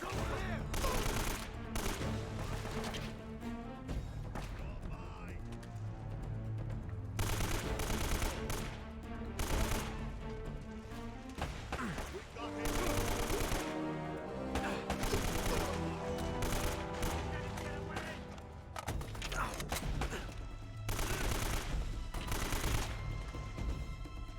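Rapid video game gunfire rattles in repeated bursts, mixed with music and other game sounds throughout.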